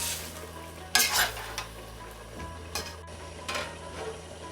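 Pumpkin and fried shrimp stirred in a cooking pan, a spoon scraping and clanking against the pan in a few distinct strokes over a steady low sizzle, close up.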